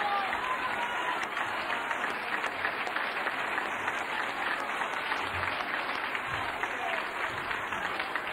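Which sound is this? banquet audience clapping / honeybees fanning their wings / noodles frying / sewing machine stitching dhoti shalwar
banquet audience clapping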